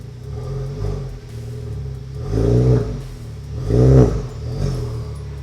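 A Honda Civic Type R (FK8) engine with a catless downpipe revs hard several times, loud and raspy, each rising roar swelling and dropping back to a throbbing idle.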